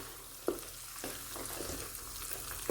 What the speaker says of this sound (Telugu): సిమ్లో పెట్టుకుని ఒక ఫైవ్ నుంచి సెవెన్ మినిట్స్ వరకు ఇట్లా వేపుకోవాలన్నమాట